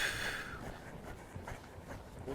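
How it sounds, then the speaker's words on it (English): A person exhales steadily through the teeth and lips with a soft, breathy F sound as a breathing exercise for dressage riding. The hiss is faint and close, with no talk over it. "Here, exhale with the sound of an F."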